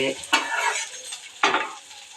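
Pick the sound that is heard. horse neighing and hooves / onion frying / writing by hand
onion frying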